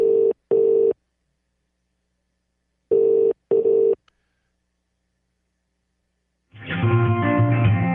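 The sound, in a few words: English telephone dial tone and ringing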